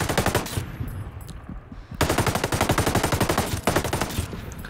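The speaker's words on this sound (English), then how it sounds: "even though I'm shooting without the suppressor" An unsuppressed MK48 machine gun fires in Ghost Recon Breakpoint, with two dense bursts of rapid, sharp shots, split by a short gap and then a brief break near the end.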